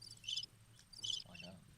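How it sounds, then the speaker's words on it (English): Two bursts of high, rapid cricket chirping, each lasting about half a second, separated by a short gap, fairly faint over low background hum, with a brief murmur of a voice near the end. "Is that a cricket?"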